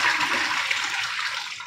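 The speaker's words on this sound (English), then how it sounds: "And I'm going to drain off this water," Water pouring off a pot of harvested cauliflower into a sink, a steady rushing splash that runs without a break from start to finish, close and fairly loud, with no talking.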